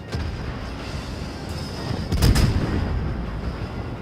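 Naval gun salvo firing in the game World of Warships: a deep, booming blast with a sharp crack around the midpoint, rising over a constant low rumble of sea and engine ambience, with no talk.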